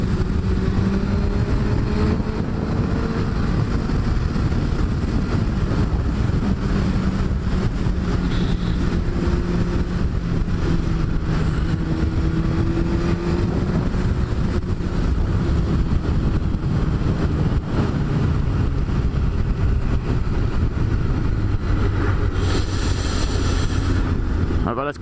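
A Suzuki GSX-R600 motorcycle's engine runs continuously and accelerates out of a bend in first gear, the engine note rising under steady loud wind rush from riding, with a rider talking over it.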